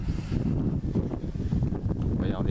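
Strong wind buffets the microphone in a steady, loud rumble with gusty roaring throughout, and a voice murmurs faintly underneath.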